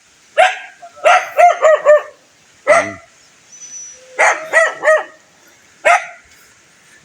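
A dog barks repeatedly in quick bursts of two to four yaps, loud and close, with short pauses between volleys.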